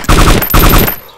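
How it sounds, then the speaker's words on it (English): Two short bursts of automatic gunfire in the DayZ video game, loud and close, each a quick rattle of several rounds, ending abruptly. "Who's shooting Oak now"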